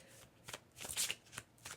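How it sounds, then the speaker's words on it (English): A deck of playing cards is shuffled in several quick, faint riffling bursts, each a short crisp flutter separated by brief pauses, heard close and alone. "let's shuffle this deck right now"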